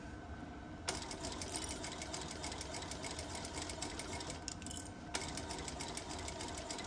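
A sewing machine runs steadily while back stitching and then stitching around a bucket hat, its fast needle rhythm continuous and close, with a couple of brief pauses or changes in pace.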